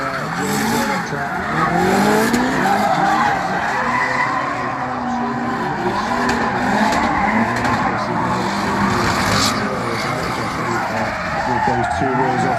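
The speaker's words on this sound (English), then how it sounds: "It will be James Cross to a nice initiation from Barber." Drift cars battle at a Driftcup round, one a Nissan S13, with sustained skidding and tire squeal plus engine roar throughout, loud and continuous beneath a commentator's voice.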